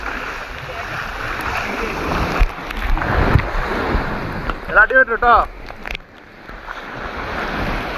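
Sea waves wash and rush continuously against a beach, with steady surf noise and wind buffeting the microphone, while people talk briefly over the water.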